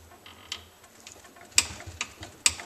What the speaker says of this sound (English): These ones I will properly torque 37 foot-pounds.